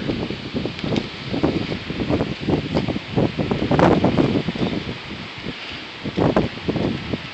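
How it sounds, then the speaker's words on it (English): Strong wind buffets an outdoor balcony by the ocean at night, coming in irregular gusts that rush and roar against the microphone, loud and close. "It's very windy out here."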